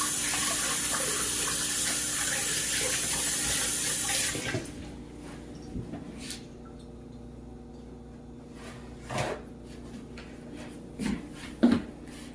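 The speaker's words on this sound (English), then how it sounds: "Now, I'm gonna rinse this off my hands." Hands get rinsed under a running kitchen tap, a loud steady gush of water for about four seconds. The flow then stops, leaving a quieter stretch broken by a few faint drips, splashes and sink knocks.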